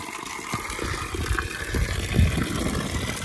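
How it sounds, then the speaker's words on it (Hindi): A stream of water flows at the Bagasu Mahadev temple, producing a continuous rushing and splashing that is fairly close, with uneven surges and no talking. "वो पानी की धार आ रही है"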